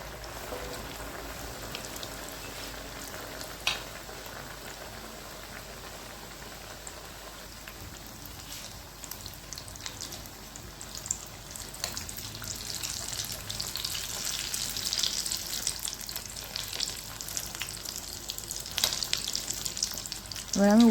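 Vegetable chops fry in hot oil over a gas stove, giving a continuous, close sizzle and crackle that grows busier and louder toward the end, with no talking.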